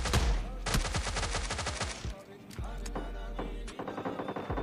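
Rapid bursts of gunfire from the mobile battle-royale game PUBG Mobile Lite, loud and close, with fast repeated shots in the first two seconds and further scattered volleys after a brief lull.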